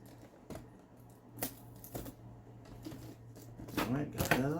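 Packing tape rips and crackles in short, uneven pulls as it is peeled off the bottom of an Xbox Series S box, close by, with someone speaking in between.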